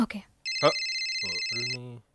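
A telephone rings once in a sustained electronic tone in a comedy film scene, with short spoken words just before and overlapping near the end.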